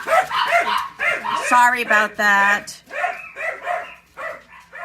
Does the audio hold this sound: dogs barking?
yes